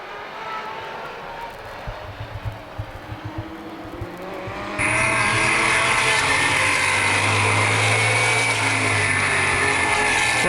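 NAPA late model stock cars race at Baer Field Speedway. A distant engine drone turns into a loud, close roar of passing cars partway through, with a sustained high whine over the blare.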